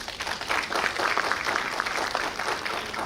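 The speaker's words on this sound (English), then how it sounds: "Please, once again, can we give him a round of applause?" An audience at a Sunday church service claps together in warm, sustained applause, a dense patter of many hands that holds steady for a few seconds.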